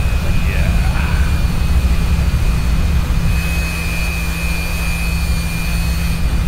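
Jet engine roar from a fighter landing in the DCS flight simulator, a steady loud low rumble with hissing turbine whine throughout, while someone talks over it.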